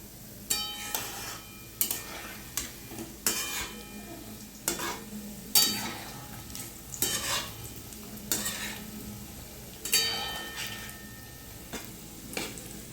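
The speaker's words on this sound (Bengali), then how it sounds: "আমি তালের ফুলুরিগুলো ভেজে নেব।" Tal fuluri, palm fritters, fry in white oil and are turned over. A steady sizzle runs throughout, broken by repeated sharp clinks and scrapes of a spatula against the pan at an uneven rhythm.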